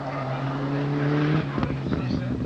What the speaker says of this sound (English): Here is probably the leading Group N car, Wayne Sisson in the Arndale Ford-backed Mitsubishi.